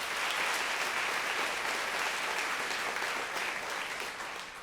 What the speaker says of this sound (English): Please clap if you think that was Margaret Atwood.